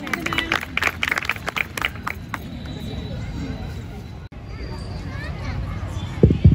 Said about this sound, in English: They also need big round of applause.